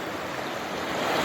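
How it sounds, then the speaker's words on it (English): Fast-flowing creek water rushes in a steady, broadband roar, close and fairly loud, with no voices over it as a storm approaches. "Creek's going a little quick."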